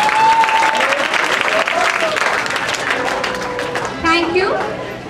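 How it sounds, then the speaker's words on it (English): An audience at an Engineers Day event applauds the chairman's arrival with a steady, loud wash of clapping that continues throughout, mixed with crowd voices and a brief spoken interjection. "please give them a very big round of applause"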